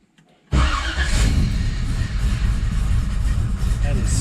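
A 1979 Chevrolet Camaro Z28 engine cranks and fires abruptly after a quiet moment, then settles into a loud, rumbling, steady idle close by.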